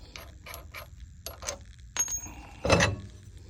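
Socket wrench loosening a nut on a golf cart rear axle, several sharp separate ratcheting clicks in short bursts, close, ending with a louder metallic clank.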